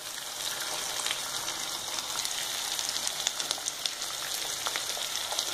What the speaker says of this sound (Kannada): ಈರುಳ್ಳಿ ಚೆನ್ನಾಗಿ ಬಾಡಿಸ್ಕೊಳ್ಳೋಣ